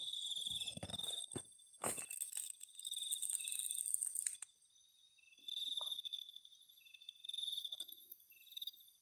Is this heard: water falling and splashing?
no